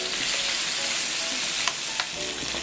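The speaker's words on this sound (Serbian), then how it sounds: "Dok se meso prži" Meat fries in a hot pan with a loud, steady, dense sizzle throughout, close by, broken only by a couple of faint clicks, with no voices.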